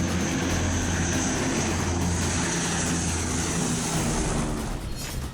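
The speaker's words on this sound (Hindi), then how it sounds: "ग्लोब मास्टर ने उत्तराखंड के आसमान में परवाज भरी" A Globemaster military transport aircraft flies over Uttarakhand, its engines a loud, steady, continuous drone with harmonic hum that holds throughout before easing slightly at the end.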